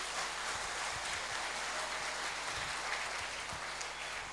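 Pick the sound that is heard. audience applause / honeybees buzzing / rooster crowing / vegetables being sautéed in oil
audience applause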